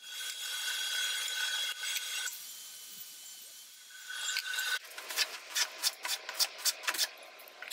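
Hand plane smoothing the faces of small and medium cedar boards held against a stop block on a tabletop: steady scraping strokes at first, then a run of rhythmic, close shaving passes, with no talk.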